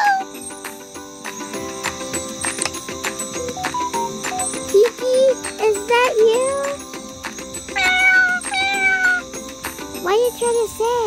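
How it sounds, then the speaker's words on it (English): A cat meows repeatedly in rising, wavering calls, fairly close and loud, mixed with bright jingly music and other game-like sounds, with a voice talking over parts of it. "Oh, a cat?"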